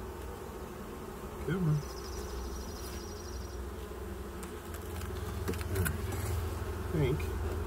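Honey bees buzz in a steady, close drone around an open hive during an inspection, with a brief murmured voice and occasional handling knocks over the constant hum.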